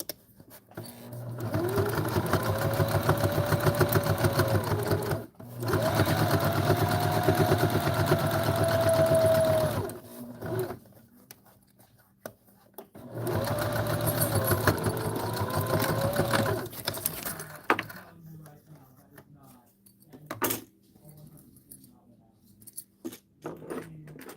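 A sewing machine running a top stitch in bursts of several seconds each, a steady close whirring hum broken by pauses, with faint handling clicks between runs.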